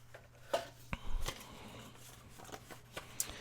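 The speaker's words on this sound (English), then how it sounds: "And then I'm going to cut it in half, because this is going to make two pockets." A junk mail paper envelope being cut in half on a quiet tabletop: a few faint, crisp snips and papery rustles spread over a few seconds, close up and alone.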